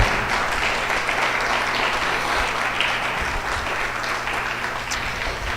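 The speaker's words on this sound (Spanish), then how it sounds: "Denle al Señor un aplauso por eso, hermanos." Sustained applause from a church congregation, a steady dense wash of clapping lasting the whole stretch at even loudness, with no speech over it.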